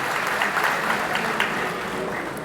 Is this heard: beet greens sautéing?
no